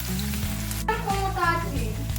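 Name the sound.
ginger garlic paste frying in a pan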